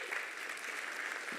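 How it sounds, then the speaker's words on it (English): A conference audience at a web developer summit gives brief, fairly faint applause, an even patter of many hands lasting just over a second. "A warm applause."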